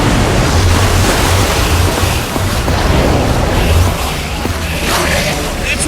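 Water gushes out in a steady, loud rush after a lever is pulled in Minecraft Story Mode, a dense broadband roar like surf that fills the clip without a break.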